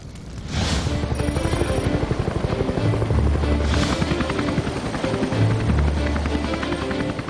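A helicopter flies with its rotor chopping steadily and loudly throughout, a continuous close whirring beat with no talk.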